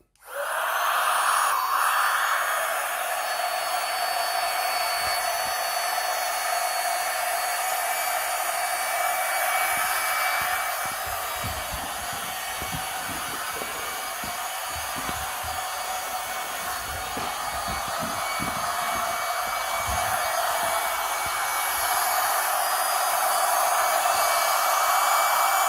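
A rechargeable portable air pump drones steadily while inflating an airsoft mattress, a loud continuous whirring hiss that starts abruptly and holds, dipping slightly in pitch midway before rising again.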